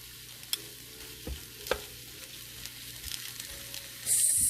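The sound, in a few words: pork chops frying in a frying pan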